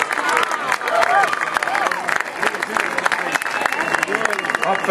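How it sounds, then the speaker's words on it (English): Crowd applause and cheering at a state high school track meet awards ceremony honoring the boys 4x200 meter relay champions, steady clapping with mixed voices and crowd babble throughout. "how about a round of applause for all these champions?"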